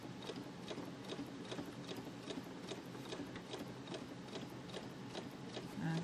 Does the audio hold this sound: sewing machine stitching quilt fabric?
yes